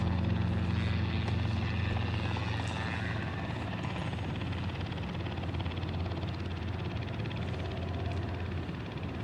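Small propeller aircraft descending to land at an airport, its steady buzzing drone like a lawnmower engine, loud and continuous throughout with no talk.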